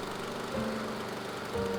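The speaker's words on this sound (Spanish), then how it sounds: "¿Eso es una cortadora de césped?, le preguntó a la cocina." A lawn mower engine runs in a steady, continuous drone with a low rumble and some faint tonal whine over it, moderately loud and alone.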